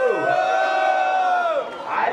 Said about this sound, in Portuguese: Quem acha que o Adilson foi mais criativo no segundo round faz barulho.